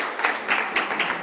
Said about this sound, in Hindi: इन लोगों के लिए तालियां हो जाए